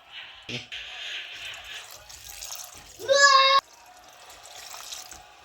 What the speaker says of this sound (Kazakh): Үстіне кішкене су тамызамыз.